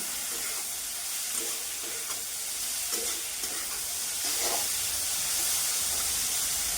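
Boiled potato and plantain fry in oil with a steady, hissing sizzle close by, broken by soft, irregular stirring scrapes throughout, with no voices.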